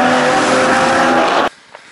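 Race cars on a circuit track at Sirius, Sochi: a loud, close roar of engine and tyre noise that holds steady for about a second and a half, then cuts off abruptly.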